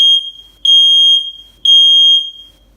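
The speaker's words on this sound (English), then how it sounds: "Testing smoke." A Nest Protect 2 smoke alarm sounds its self-test with three loud, piercing high beeps in a steady on-off rhythm, heard close and alone.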